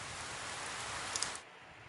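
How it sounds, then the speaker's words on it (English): Rain falling in the video game 428: Shibuya Scramble, a steady, close hiss of downpour with scattered drop patter that thins abruptly near the end. "nothing will make the sound of the rain stop."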